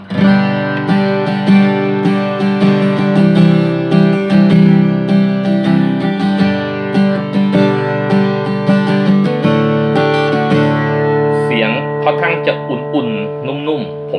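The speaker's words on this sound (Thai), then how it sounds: "ขออนุญาตเล่นเสียงกีตาร์เปล่าให้ฟังก่อน" A 91 Guitar PD15 solid-top acoustic-electric guitar, unplugged, strums chords up close, ringing and full, for several seconds; near the end a voice starts talking as the strings fade.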